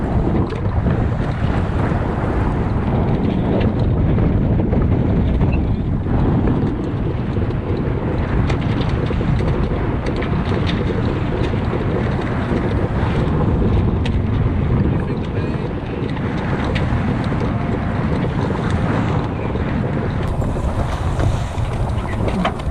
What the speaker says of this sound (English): there's almost nothing better than the sound of the wind and waves just rushing